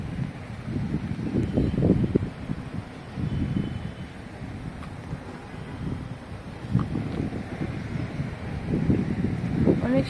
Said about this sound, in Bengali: অনেক সুন্দর বাতাস।